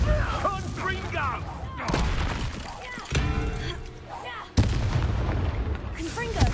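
Fiery Confringo spell blasts from Hogwarts Legacy, several sharp bursts and crackling impacts landing in quick succession amid game effects, with a character's voice speaking between casts.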